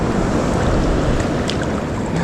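Ocean surf rushes onto Vilano Beach near St Augustine, a loud, continuous roar of washing water and wind with no pause or talk.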